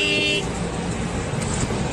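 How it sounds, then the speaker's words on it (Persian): A car horn gives one short honk, then a steady roar of road traffic continues with no one speaking. "یارو نمیره باز بوق میزنه."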